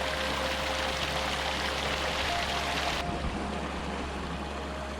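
River water flows during a wild camp in the Ochil Hills, a constant broadband rush heard close by that fills the whole stretch and drops slightly in brightness partway through, with no voices.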